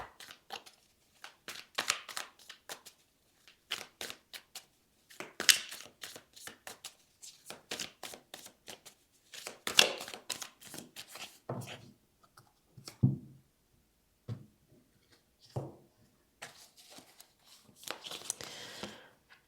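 Tarot cards being shuffled by hand for a monthly reading, coming in quick papery riffling bursts and soft slaps separated by short pauses, close and fairly quiet, with no talking.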